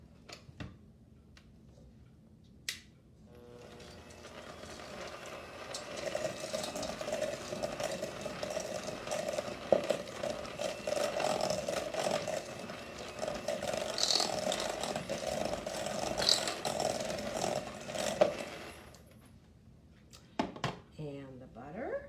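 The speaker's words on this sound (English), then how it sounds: "Now I'm ready to use my mixer to mix this up." An electric kitchen mixer beating potato with bacon, salt and pepper gives a steady mechanical whir with rattling clicks for most of the stretch, starting and stopping with short knocks, with some voice underneath.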